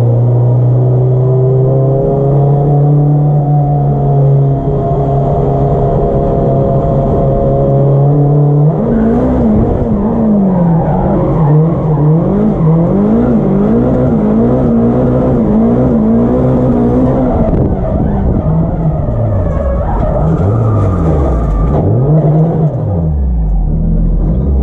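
A Nissan S14 with a forged 500hp SR20DET engine idles with a steady low drone, then revs hard and drifts, the loud engine note rising and falling in repeated sweeping surges with no one talking.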